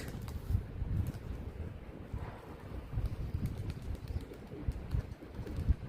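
Tumbler pigeons take off outdoors, a soft scatter of wingbeats and flutters amid rustling wind noise and faint ambient sounds, quiet and a little distant, with no speech.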